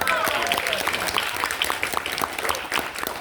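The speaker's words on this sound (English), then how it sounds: "Round of applause for Lauren, for everyone." Audience applause at a pony fan convention guest-of-honor Q&A, dense steady clapping from a crowd filling the whole stretch, with a voice faintly audible beneath it.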